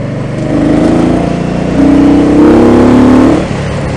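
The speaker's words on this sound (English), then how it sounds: "rolling throttle on. It gets up and goes for sure, and with that intake, it sounds just nasty" An Indian Scout Bobber motorcycle with an aftermarket intake has its throttle rolled on: a loud, close engine drone climbs in pitch in two surges, holds high, then drops back to a steady idle-like rumble.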